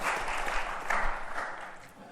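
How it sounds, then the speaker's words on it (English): Audience at a talk applauds to welcome a speaker to the stage, a steady wash of clapping from a modest crowd that softens toward the end. "Nice big round of applause."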